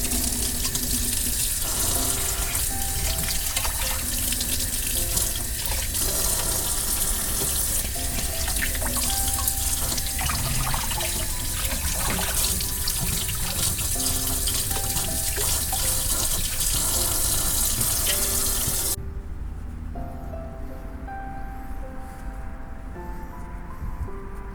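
Tap water runs steadily into a sink while gizzard shad fish are rinsed, a continuous splashing flow that cuts off near the end, leaving a quieter room.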